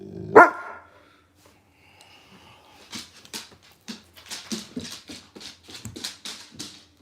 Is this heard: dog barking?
yes